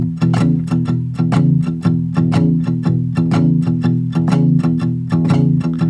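Sharp metronome clicks land on beats 2 and 4 in a steady shuffle rhythm, close and crisp, over a repeating blues guitar figure with no talk.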